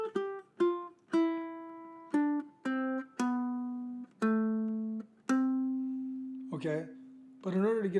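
A ukulele plays a descending chord walk-down, a series of separate plucked chords stepping lower in pitch, close and clear, followed by a voice briefly humming the melody note at the end.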